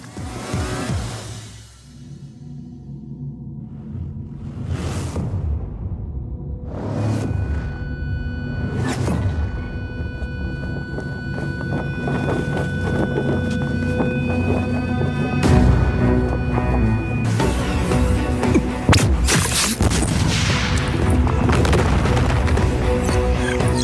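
Deep bass booms from an anime soundtrack hit heavily one after another, with whooshing sweeps and a dense rumbling, explosive texture that builds steadily and stays loud.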